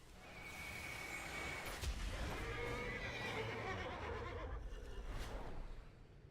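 A horse whinnies through a steady, noisy backdrop, its neigh rising clearly near the middle with a few shorter whinnies and snorts around it, fairly close and loud.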